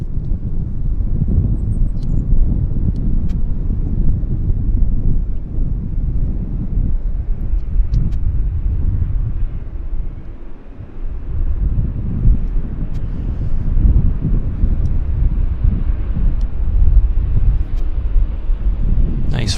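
A Westjet airliner rolling out after landing at Vancouver Airport, a continuous low rumbling roar with wind buffeting, loud and steady throughout, no voices.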